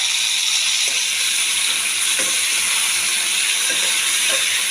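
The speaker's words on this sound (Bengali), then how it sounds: "ডাঁটাটা দিয়ে একটু ভেজে নেব" Drumstick (moringa) pods frying in a pan with mustard, a steady loud sizzle and hiss throughout with a few faint stirring knocks underneath, no voices.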